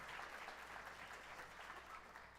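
A church congregation claps together in steady, sustained applause, a dense patter of many hands at moderate distance with no voices standing out.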